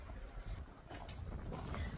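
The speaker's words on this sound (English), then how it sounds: "It's really windy." Strong wind buffets the microphone outdoors in the New South Wales outback near Broken Hill, a loud continuous low rumble with gusty swells and no clear talking.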